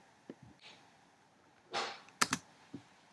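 Someone types a web search on a computer keyboard: a few scattered soft key taps, then a quick cluster of sharper clicks and a final tap, sparse and close in an otherwise quiet room.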